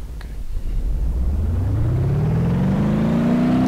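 An old truck's engine in the driving game BeamNG Drive rumbles and then climbs steadily in pitch as it accelerates, with a loud, continuous low drone and no talk over it.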